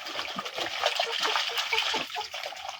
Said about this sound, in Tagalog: Hugasan ko na to.